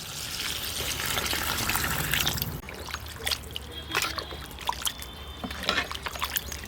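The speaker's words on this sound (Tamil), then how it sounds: "காய் வேகிறதுக்கு தகுந்த தண்ணி சேர்த்துக்கிடுவோம்." Water poured into a pan of cooking vegetables for sambar, a loud continuous gush that stops after a couple of seconds, followed by quieter bubbling, dribbles and light clinks.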